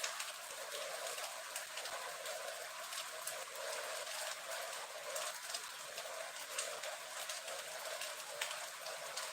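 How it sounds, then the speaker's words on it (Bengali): Heavy rain pours steadily, a dense, unbroken hiss with occasional sharper drops and faint bird calls in the background. "প্রচুর বৃষ্টি হচ্ছে এখন"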